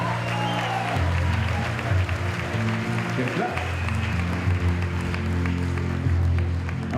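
Audience applause at a diploma ceremony, steady clapping from a crowd, with a voice speaking over it.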